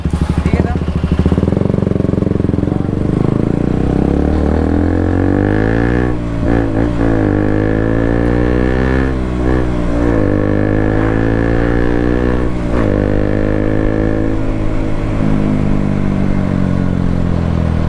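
A KTM RC 200 motorcycle engine runs loud and close throughout a night ride, with rising and falling revs as gears shift, its whine climbing through several acceleration pulls.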